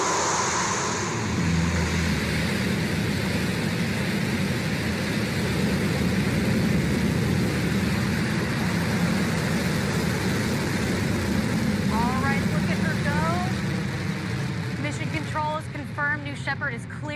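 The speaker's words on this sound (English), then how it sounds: "command engine start" A Blue Origin New Shepard rocket fires its engine at launch, giving a long, steady, broad roar that holds loud and continuous throughout, with faint chirping sounds near the end.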